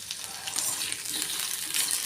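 Chopped onions fry in a pan for a cashew curry gravy, giving a soft, continuous crackling sizzle with light stirring, fairly quiet and steady without talk.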